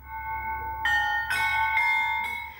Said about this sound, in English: Ukrainians hopeful these bells won't need to serve as a warning.